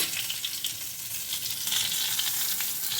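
Cardamom, cloves, cinnamon and bay leaf sizzle steadily in hot oil for fried rice, a bright continuous crackling hiss with scattered pops, close and loud with no talking.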